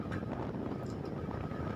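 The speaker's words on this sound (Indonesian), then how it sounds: "suasana lagi angin besar ya" Strong wind at sea buffets a fishing platform in deep water during the rainy season, a steady, rough roar of wind and surf with no pauses.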